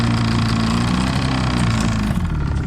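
A Carolina Skiff boat's outboard engine runs steadily after a seafoam treatment, a loud, continuous droning hum with a low rumbling tone that stays even throughout, heard close up with no talking.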